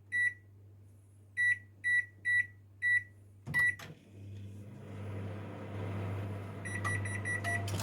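A microwave oven heating a microwavable rice pack sounds five evenly spaced electronic beeps, then a louder beep and a clunk. After that a steady low hum of the running oven follows, with a few faint higher tones near the end and no talking.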